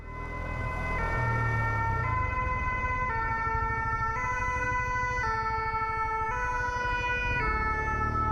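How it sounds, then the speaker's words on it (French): A French fire engine's siren wails close and loud in a steady alternating two-tone pattern over a low traffic rumble, with no talking. "Évidemment, les pompiers sont prioritaires hein, pour ceux qui ne savent pas."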